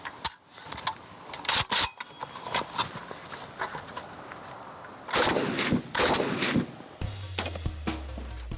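Sharp automatic rifle gunshots crack out in irregular bursts, some close together like short automatic volleys, with quieter gaps and a low rumble near the end.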